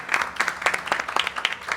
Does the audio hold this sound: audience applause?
yes